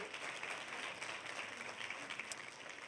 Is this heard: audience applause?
yes